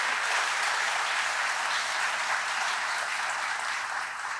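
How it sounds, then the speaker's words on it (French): An audience at a recognition evening for the Ordre de Victoriaville gives warm applause. The dense, even clapping of a large crowd holds steady and loud from start to finish, with no talk over it. "je pense qu'on peut leur donner aussi une belle main d'applaudissements"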